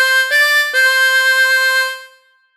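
A tremolo harmonica plays a short closing phrase of Oh When the Saints: three sustained reedy notes with a wavering shimmer. The last note is held and fades out, heard alone and close.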